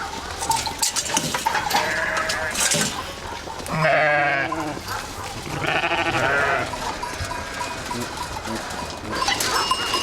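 Sheep bleat repeatedly while feeding at a milking place in Mamoiada, Sardinia, several harmonic calls rising out of a busy, clattering pen with other bleats and rustling around them, fairly close and loud.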